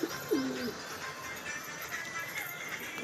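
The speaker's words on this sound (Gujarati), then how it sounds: "બસ જો ઘણા બધા કબૂતર છે, અંદર છે અડધા" Pigeons on a rooftop give a short, low coo near the start, followed by faint rustling and distant ambient noise. The sound is fairly quiet and there is no talking.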